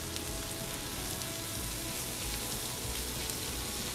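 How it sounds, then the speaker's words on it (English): Lean 80-20 ground beef browns with onions and garlic in a hot pan, giving a steady, close, crackling sizzle from start to finish, with no voices. "add about a pound and a half of a lean ground beef. And brown that, incorporate it in with the onions and garlic"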